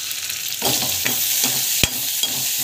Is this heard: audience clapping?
no